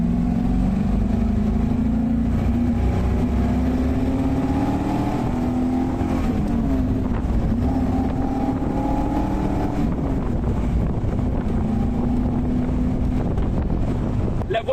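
A Chevrolet Corvette C1 engine drones loudly and continuously, its pitch rising through the gears with dips at each shift, all under heavy wind noise.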